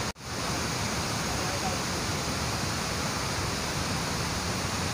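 Hogenakkal waterfall pouring over rocks, a loud, steady broadband roar that runs unbroken through the whole stretch, close and dominant.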